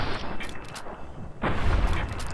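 Gunfire in a first-person shooter game as the player shoots geckos, a sharp crack early on, then a loud booming shot with a deep rumbling tail, heard alone without talk.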